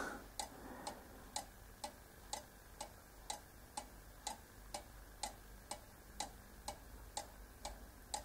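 A cuckoo clock ticks steadily, about two beats per second, crisp and clear in a quiet room with no other sounds.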